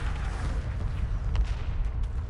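Destroyers firing in a space battle in Homeworld Remastered, a dense low rumble of booming shots with a few sharper bursts, continuous and fairly loud.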